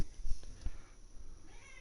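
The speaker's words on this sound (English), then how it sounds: "gonna hear a lot of the cat in the broadcast tonight" A faint cat meow comes through briefly near the end of a short stretch of quiet hiss and low knocks on an Astros versus Orioles baseball broadcast.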